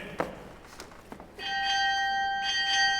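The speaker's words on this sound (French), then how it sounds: "C'est la cloche de la tourelle, qui tout à coup a retenti" Turret bell ringing in a staged opera, a bright sustained bell tone sounding out after a quiet stretch with a few soft knocks, ringing on steadily to the end.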